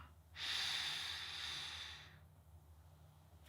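A single long, breathy exhale or intake of air, broadband and hissing, lasting about a second and a half and fairly close, followed by quiet room noise.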